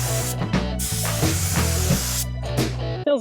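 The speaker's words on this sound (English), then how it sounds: "spray till she just can't spray anymore" A spray gun spraying paint onto a car, a loud close steady hiss in repeated passes with short breaks, ending with a brief gap and a final burst.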